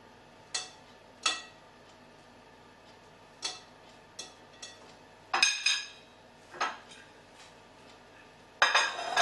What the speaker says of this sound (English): So I'm just going to mix all of these into my bowl first of all.